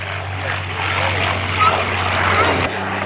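A fighter plane with a 1170 hp B12 liquid-cooled Allison engine flies overhead at an airshow, a loud steady propeller drone with a crowd murmur and people talking beneath it.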